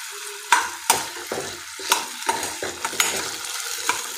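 Onion sautéing gently over low heat in a pan for dry cabbage manchurian, a soft close crackle and sizzle punctuated by about eight sharp scrapes and stirs of a spoon against the pan, with no talk.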